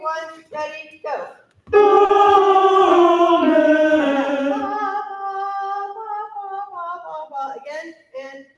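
A tenor section of a choir sings a sustained line moving down by half steps, loud and steady after a brief start, with the pitch gliding lower toward the end.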